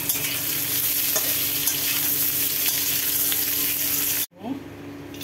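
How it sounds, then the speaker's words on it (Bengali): Bay leaf and dried red chili tempering in hot oil for shukto, a loud steady sizzle with stirring that cuts off abruptly near the end, then a brief softer crackle resumes. "এবারে ফোড়ন দেওয়া হচ্ছে। ফোড়নে তেজপাতা, শুকনো লঙ্কা আর ফোড়ন দেওয়া হলো।"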